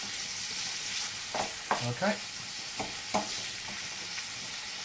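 Spices sizzling and frying in a pan for a curry, a steady bright hiss with a few louder spits and stirring scrapes, close by; a brief word is spoken.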